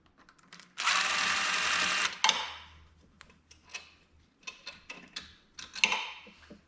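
Head bolts being pulled from a blown-up 2020 Yamaha Raptor 700 engine, a loud burst of ratchet clicking for about a second, then scattered metallic clinks, taps and short ratcheting bursts close by.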